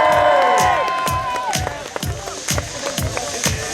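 Spectators at a parallel ski race cheer and clap near the finish, with a steady beat of knocks and clatter under the crowd and a brief tonal blare at the start.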